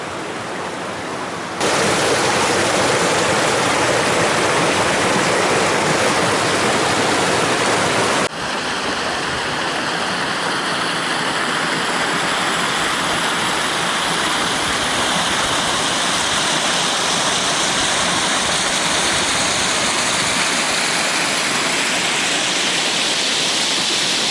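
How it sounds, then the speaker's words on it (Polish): A forest stream flows through woodland with fallen dead wood, a loud, steady, broadband rush of water that continues without pause for the whole stretch. "też mamy strumień i dużo martwego drewna"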